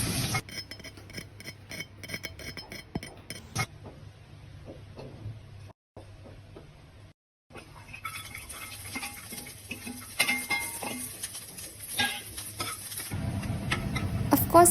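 Garlic sizzles in a pan while frying for a paneer rice bowl in a home kitchen, a steady soft crackle with a spoon stirring and scraping against the pan, brief gaps, then louder sizzling toward the end.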